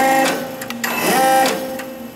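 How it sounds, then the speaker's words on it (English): Large motor in a REXA steam turbine control actuator running, a steady mechanical whine with layered tonal hum that rises and shifts pitch partway through, fairly loud and alone. "If I exceed the breakpoint setting, the large motor activates."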